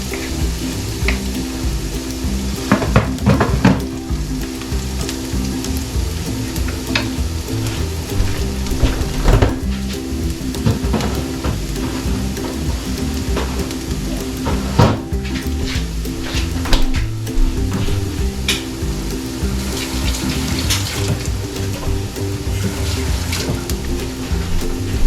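Garlic and ginger sauté in a hot pan while cooking lechon paksiw, a steady sizzle running throughout with scattered clinks and stirring knocks, close and fairly loud, no talking.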